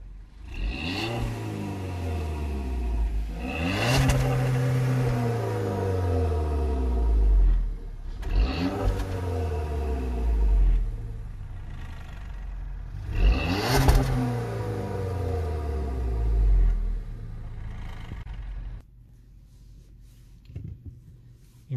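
A stock Volkswagen Golf Mk6 engine revs up repeatedly, four rising roars that fall back to idle between bursts, close and loud, ending in a quiet idle.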